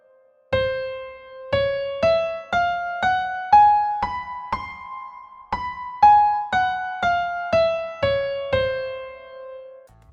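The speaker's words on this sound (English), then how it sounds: "A C Persian scale sounds like this." A C Persian scale plays note by note on a clean, bright, plucked or struck pitched instrument. Each tone rings and fades. The notes climb, pause briefly, then come back down, alone and without voices.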